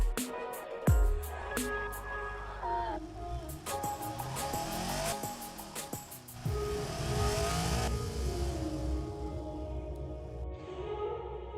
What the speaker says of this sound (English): that's an engine from Automation